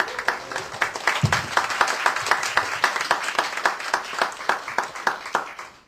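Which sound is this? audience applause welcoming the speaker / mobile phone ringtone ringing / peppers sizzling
audience applause welcoming the speaker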